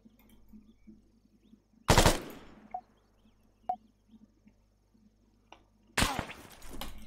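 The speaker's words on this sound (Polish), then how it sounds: "Nie wiem skąd to były strzały." Gunfire in the military shooter game Arma 3, King of the Hill mode: two loud, sharp bursts of shots a few seconds apart, with faint scattered distant shots and low background hum between them.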